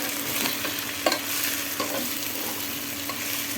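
Potatoes with onion and green chili fry in a pan for a potato bhaji, with a steady close sizzle, scattered scraping stirs and one sharper clack near the start.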